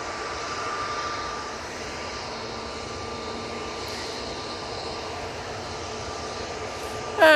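An EasyJet airliner taxis at Manchester Airport, its engines giving a steady distant whine and rumble with a faint high tone, ending in a sudden louder burst of noise.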